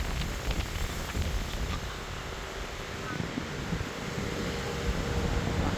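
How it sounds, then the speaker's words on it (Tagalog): Strong wind gusting ahead of an approaching typhoon, a steady broadband rush of wind noise buffeting the microphone, moderately loud throughout with faint background sounds. "Lakas ng hangin."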